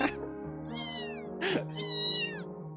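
Recorded cats meowing, played to unsettle a pet cat named Lilith: two long, wavering meows, loud and near, separated by a short sharp noise over a low background hum.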